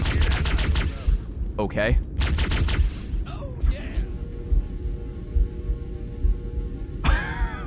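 Rapid bursts of plasma pistol fire in the video game Cursed Halo, loud repeated shots in quick succession, with a brief spoken word from a player.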